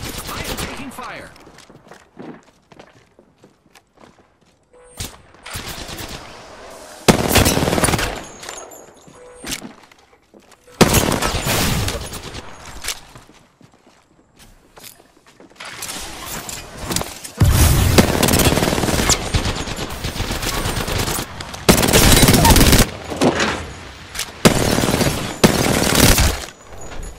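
Bursts of gunfire in the video game Apex Legends, rapid automatic volleys and single loud shots coming in clustered waves with pauses between, close and punchy, while a player talks over parts of the action.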